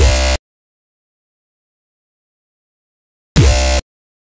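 Dubstep synth from the Massive Fall Down 1 preset, two short identical stabs with a downward pitch fall, each about half a second long, separated by about three seconds of silence.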